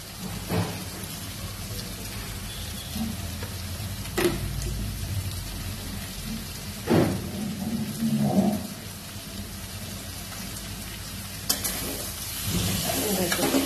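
A bitter gourd vegetable stir-fry is stirred in a pan. There is steady sizzling with a few sharp scraping knocks of the spatula, close by and with no talk.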